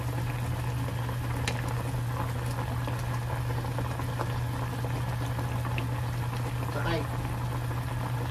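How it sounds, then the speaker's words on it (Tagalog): Water boiling steadily in a cooking pot with a constant bubbling hiss, close and continuous, along with faint clinks. "So pakuluan lang natin ng mga 2 minutes siguro."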